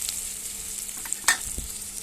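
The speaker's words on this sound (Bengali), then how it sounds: "পেঁয়াজ কুচি আর পেঁয়াজটা একটু ভাজা ভাজা করে নেব" Chopped onions fry in a pan with dried red chillies and bay leaf, giving a steady close sizzle, with a brief louder spatter and light stirring scrapes near the middle.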